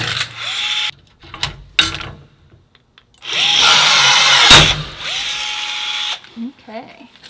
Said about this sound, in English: 3/16 pop rivets. So we're going to go ahead and set those